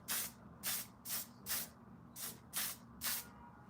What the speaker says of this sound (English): now I can spray my face with this